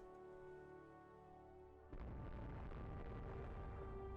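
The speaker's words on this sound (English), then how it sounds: "That sounded like large caliber explosions." Large caliber shells explode in the naval game Rule the Waves 2, a faint steady tonal hum giving way abruptly to a sustained rumbling, crackling barrage.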